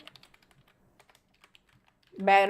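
CSS code typed on a computer keyboard, a quick run of light, close key taps over near silence, followed by a person who starts talking at the end.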